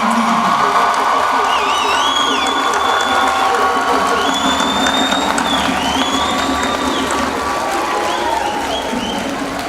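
Graduating class of 2019 at a West Chester University Kente ceremony gets steady, loud applause with cheering and whoops from a large crowd, sustained throughout with voices mixed in.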